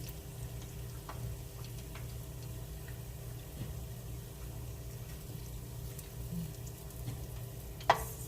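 A batch of batter-coated lemon pepper chicken fries in hot oil with a steady, low sizzle and faint crackle, with a single sharper tick near the end and no talking.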